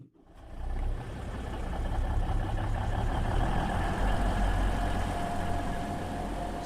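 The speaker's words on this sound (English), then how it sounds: "I'm turning the engine back on." Train engine in the British Railway video game starting up and settling into a steady, low rumbling idle that holds close and even throughout, with no talk.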